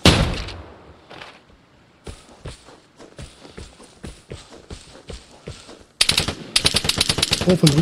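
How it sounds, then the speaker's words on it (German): Enemy gunfire in the video game Vigor, with rapid bursts of sharp shots and dense clattering fire growing loud near the end, mixed with game footsteps and brief quieter gaps. "Oh, von drüben schießt er da."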